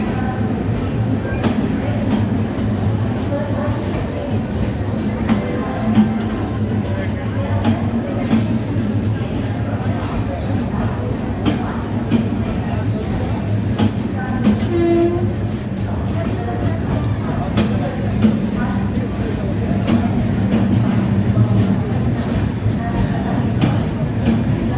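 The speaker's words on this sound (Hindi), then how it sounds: "तो सबसे पहले साबरमती एक्सप्रेस का प्लेटफॉर्म नंबर 2 पर अराइवल हो रहा है" Sabarmati Express passenger train pulling into platform 2 at a station on the Chhapra–Ballia line, a steady low rumble of wagons running throughout with a brief horn-like tone midway and faint voices in the background.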